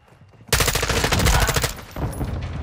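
Rapid automatic fire from an M4 rifle in Modern Warfare 2, a loud, dense burst of close shots lasting over a second, then quieter game action.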